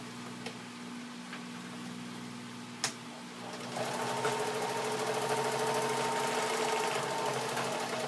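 A sewing machine stitches the cover of an extra large art journal, starting after a few seconds as a steady, continuous mechanical whir with fine rapid ticking close to the mic.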